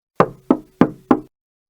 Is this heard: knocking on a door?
yes